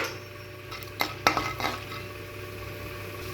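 Chana dal and tempering seeds fry in oil in a pan, a faint background sizzle broken by a few sharp metallic clinks of a spoon stirring, quiet and close.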